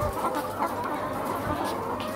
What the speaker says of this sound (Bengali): মুরগিদেরকে দেখুন, কত কত মুরগি,